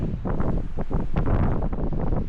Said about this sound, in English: And it is still windy as F right now.